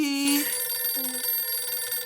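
A telephone rings in a shop with a bright, electronic, bell-like tone. Two short rings sound close and clear over a faint background hum.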